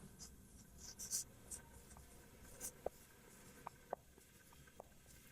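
Faint pen-on-paper scratching while math working is written out by hand, with soft irregular strokes and a few small taps against a quiet room background.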